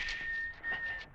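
A gunner whistles a single high steady tone in fog, faint and somewhat distant, held for about a second.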